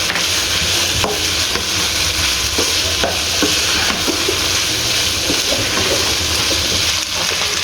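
A chicken and rice mixture is sautéed in a pan, giving a steady loud sizzle with scattered scraping stirs and clicks of a utensil against the pan throughout, with no one speaking.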